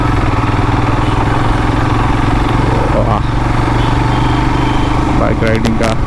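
Several motorbikes, including a Jawa, Himalayans, an NS and a Pulsar 220, ride off-road on a jungle route, with a loud continuous engine drone throughout and a few brief higher tones near the end.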